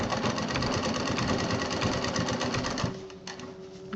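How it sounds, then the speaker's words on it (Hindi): Sewing machine stitching a fabric fridge handle cover, a close steady rapid mechanical whir and needle clatter running continuously, then slowing and stopping near the end. "चारों तरफ वही जो मशीन जो हमेशा चलाती हूँ वो चला दीजिए।"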